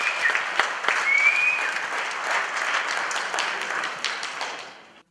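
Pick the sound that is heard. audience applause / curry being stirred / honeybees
audience applause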